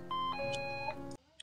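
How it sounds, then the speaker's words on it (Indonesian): A house doorbell chimes in a short electronic two-tone sequence within a drama scene, fairly faint and clear with no talking, followed by a few softer blips. "Bel pintu rumah berdering"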